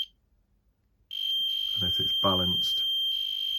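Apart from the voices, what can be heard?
static field detector pod alarm beeping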